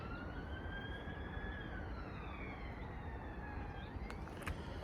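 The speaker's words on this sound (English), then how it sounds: "sounds like an ambulance or something" An ambulance siren wails faintly in the distance, its pitch sweeping slowly up and down over a low, constant background hum.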